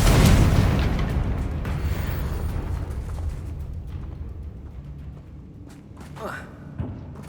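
A Confringo fire spell explodes in the video game Hogwarts Legacy, a loud booming burst at the start that rumbles and fades over several seconds, followed by smaller magical crackles and a distant thump, with a voice shouting in the game.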